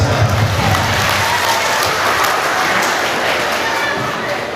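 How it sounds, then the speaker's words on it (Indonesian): A school audience at a religious gathering claps and cheers loudly and close, with a dense wash of hands and crowd noise throughout. "Tepuk tangan untuk kita semua."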